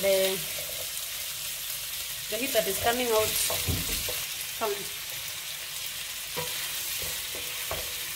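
Tomatoes cooking with beef in a pot for a stew give a steady soft sizzle and bubbling that runs throughout, with a voice briefly audible partway through.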